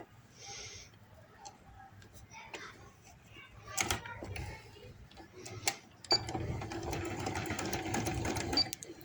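A sewing machine runs silk thread along both sides of a baby boy's hoodie, its stitching bursts starting and stopping, then running steadily and louder near the end, with quiet background sounds between.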